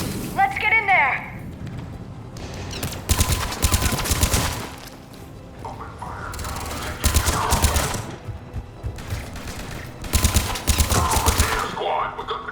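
Rapid bursts of sci-fi gunfire in the video game Mass Effect 3, loud repeated automatic volleys in several clusters separated by short pauses, with voices speaking between and over the shooting.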